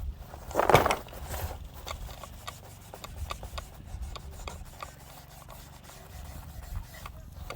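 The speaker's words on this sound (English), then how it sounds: "You want to scrub the stock everywhere, and apply, scrub and apply." Light scrubbing of an M1 Garand wooden rifle stock during cleanup, a soft repeated rasping rub at close range with one louder stroke near the start, continuing quietly throughout.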